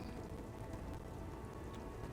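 Steady, dense rain pours down across a city street in Disco Elysium, a constant close hiss of drops on the ground with no break and no voices.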